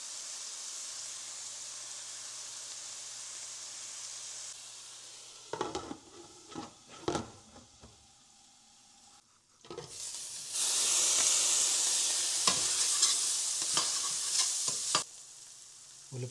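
Onions sautéing with salt in a pan, a soft hiss broken by scraping stir strokes, then a louder burst of sizzling near the end, with no one speaking.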